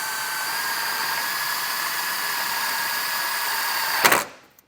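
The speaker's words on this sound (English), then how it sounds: "you can drill a small hole" A power drill boring a small pilot hole in a 2024 Kia Telluride whines steadily at one pitch for about four seconds, close and loud, then a brief clatter as it stops and spins down.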